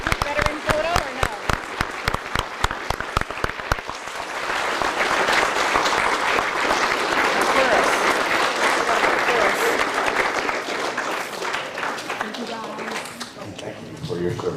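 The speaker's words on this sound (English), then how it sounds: "We could just share one more round of applause for all of our veterans." A school Veterans Day celebration crowd breaks into a long round of applause for veterans, building from scattered claps into dense, loud, sustained clapping that fills the room before tapering slightly at the end, with a voice briefly audible at the start.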